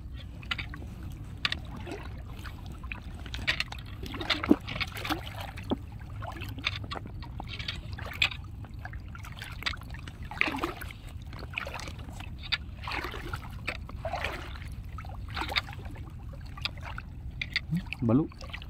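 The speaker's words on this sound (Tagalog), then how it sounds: "Magalaw na yung tubig kasi sa lakad." Water sloshes and splashes in repeated bursts as someone wades through shallow sea water, with a steady low background rumble throughout and occasional louder splashes close by.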